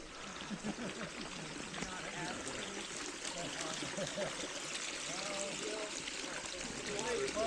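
Soft, steady trickle of a small, clear stream running over rocks at Oak Mountain State Park, faint and continuous, with quiet talk now and then.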